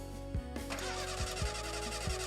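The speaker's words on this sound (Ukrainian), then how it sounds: "Вже коли Денис сів до машини та намагався завести двигун, то глянув у бік." Car engine cranking over in repeated short starter bursts and catching into a running idle, close and fairly loud, heard alone as a sound effect within a narrated Ukrainian audiobook.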